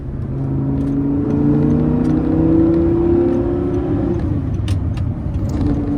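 An Audi R8 engine revs up and accelerates loudly, its note rising to a peak and then easing off, with no talk over the strong, close engine sound.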